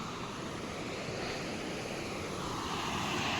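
River water rushing through an open sluice gate in a village, a steady broadband roar of flowing water with some wind noise, continuous and fairly loud throughout.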